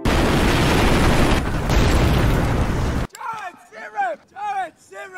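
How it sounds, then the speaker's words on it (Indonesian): A landmine explosion gives a loud, dense roaring blast that lasts about three seconds, then cuts off abruptly. A voice follows in short spoken bursts. "Stu terkena ledakan lagi dan tidak sadarkan diri"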